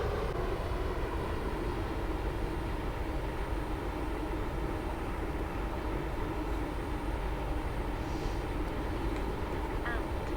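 Train in the Roblox game Stepford County Railway pulling into a station, a steady loud rumble of running rail traffic held throughout, with faint game announcements in the background.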